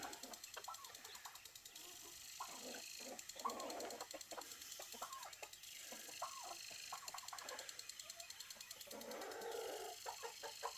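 Soft, repeated clucking from a hen mingles with faint peeping of her eight chicks, quiet and close, with light scratching sounds as they peck at scattered scratch grain.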